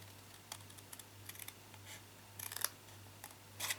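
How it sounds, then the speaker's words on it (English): Scissors snipping along the score line of a stamped bench fold card: faint, quiet clicks and short cutting snips in a few separate bursts against a low steady hum, with no talk. "The score line here, you need to cut off. So cut right on the very edge of it."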